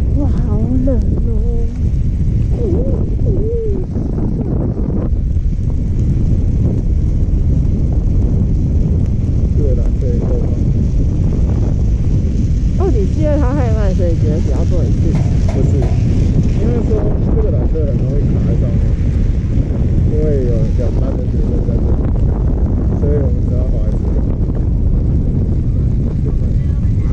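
Wind gusting across a ski slope at Echigo-Yuzawa, a loud continuous rushing roar buffeting the microphone throughout, with people talking over it.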